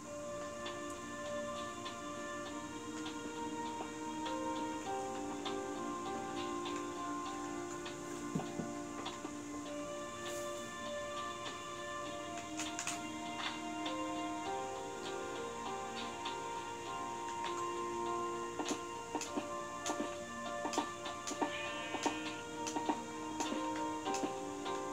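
A clock ticks in a video game with a steady, even tick-tock rhythm, faint under a layer of game music and ambient tones, with no talking.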